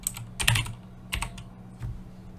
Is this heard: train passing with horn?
no